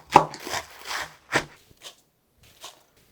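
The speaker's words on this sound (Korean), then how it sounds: "쪽파 500g을 썰어서 넣어줄게요." Knife chopping green onions on a board for kimchi, a few sharp separate cuts that thin out and fade, close and fairly loud.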